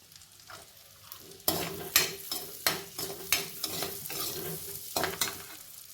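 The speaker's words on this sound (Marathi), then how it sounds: "आता मी घालते गाजर हे पण थोडंसं परतून घेऊया त्याचबरोबर घालूया फ्रेंच बीन्स" Carrots and French beans stir-fried in a pan with butter and garlic: a steady frying sizzle punctuated by a rhythmic series of close spatula scrapes and tosses, about one every half second, no talk.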